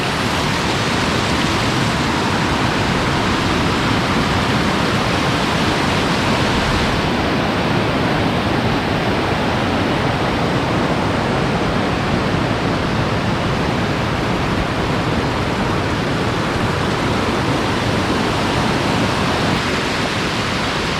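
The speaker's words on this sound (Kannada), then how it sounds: "ಸೊ ಟೋಟಲ್ ಎರಡು ಫಾಲ್ಸ್ ಉಂಟು." Forest waterfall near Puttur roaring as a loud, constant broadband rush of falling water, steady and unbroken throughout with no voices.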